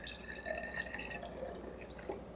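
Blueberry vinegar trickling into a small 5-ounce bottle, a quiet, steady liquid pour with faint dripping and splashing, heard fairly close without talk.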